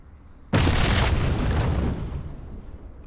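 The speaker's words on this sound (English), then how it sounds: "Grenade." Grenade explosion in PUBG, a sudden loud close boom with a broad blast that rolls on and fades out over a couple of seconds.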